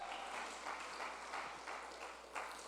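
A church congregation claps during a sermon, faint, rippling applause that rises and falls in soft waves without any clear speech.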